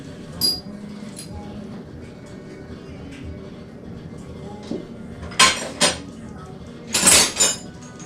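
Metal sockets clink and rattle as someone rummages through a collection looking for a 1/4 inch socket, with faint background noise between sharp bursts of clattering near the end.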